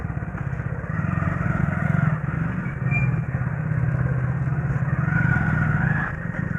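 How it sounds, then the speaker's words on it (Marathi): A motorcycle engine idles and runs steadily after a self start, a continuous close mechanical rumble with slight clatter, on a rainy day with water on the road. "आपण आता गाडीला दिलं आहे सेल्फ स्टार्ट"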